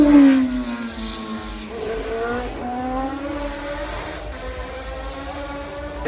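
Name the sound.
car racing up Goodwood Festival of Speed hill climb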